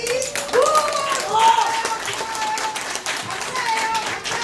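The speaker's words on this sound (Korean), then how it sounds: "이 귀한 자리를 만들어준 우리 어른들한테 박수 막 쳐주기." Children and adults at a seaside summer camp for young heads of households clap together, a steady rush of close hand claps with scattered voices and cheers mixed in.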